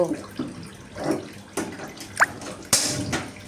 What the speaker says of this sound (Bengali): এগুলো আমি কড়াইয়ের মধ্যে দিয়ে দিলাম এখানে আমি একটু পানি দিয়ে দিয়েছি